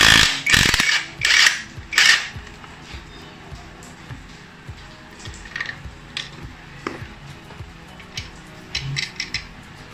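An impact wrench takes off a lock nut during an engine support rubber bushing swap on a Yamaha Mio scooter, with a few loud short rattling bursts near the start, then quieter clinks and tool handling.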